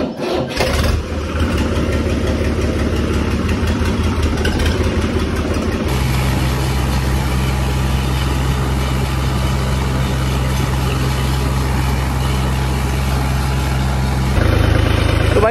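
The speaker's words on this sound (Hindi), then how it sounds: "सब खेत आके ट्रैक्टर को लगा दिया है क्रेशर पे।" A tractor engine runs steadily at a sugarcane crusher on a farm, a loud, close diesel drone with a deep rhythmic thrum that shifts to a heavier load partway through and continues without talk.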